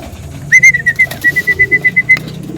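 A close bird call: a held whistle-like note over a rapid run of about ten soft pulsing coos, with faint background noise.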